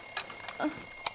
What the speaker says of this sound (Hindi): ये मेरा अलार्म है